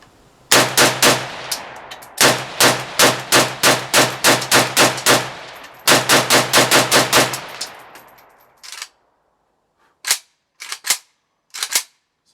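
A Romanian RPK MD64 machine gun fires several loud, rapid bursts of about a dozen rounds each, followed by a few short, sharp shots.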